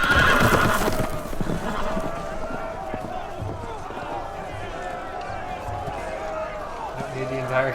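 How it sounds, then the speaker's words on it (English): Loose horses in the Telltale Game of Thrones video game give a loud whinny, then galloping hooves clatter on steadily under a busy background. "The horses! They're loose!"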